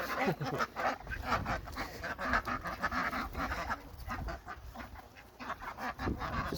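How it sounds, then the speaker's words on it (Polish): Hungry farm ducks quack and honk in a busy, continuous chorus, close and fairly loud, with overlapping calls throughout. "Kaczki pewnie głodne"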